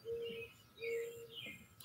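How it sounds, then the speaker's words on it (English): Birds call outdoors, two or three clear repeated whistled notes close by with softer chirps between them. "There's lots of birds here. I know you can tell because of the bird sounds."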